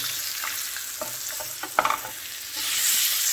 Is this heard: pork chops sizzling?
yes